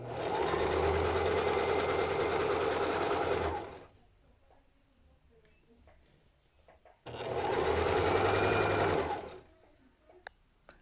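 A sewing machine stitches elastic lace binding around the waistband of lace panties, running in two fast, steady bursts of about three seconds each. A quiet pause with faint handling noises separates them.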